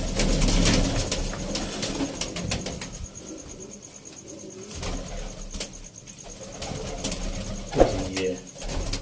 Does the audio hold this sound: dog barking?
no